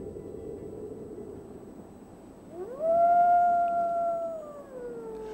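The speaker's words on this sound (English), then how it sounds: "Wolves are common." A lone wolf howls in the taiga forest, a long rising then sustained tone that slowly falls away, clear and fairly loud over a low background rumble, with a fainter earlier howl fading out.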